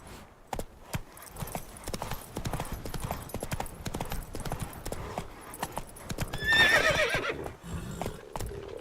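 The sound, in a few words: horse galloping in video game The Witcher 3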